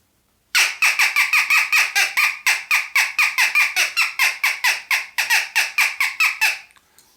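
Acme crow call blown to imitate a jackdaw, giving a rapid series of about twenty-five sharp, loud squawking chirps in close, fairly even rhythm, heard alone and up close.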